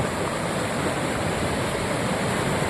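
River water rushes steadily and loudly while someone crosses a deep village stream, a dense continuous roar with no pauses and no voices.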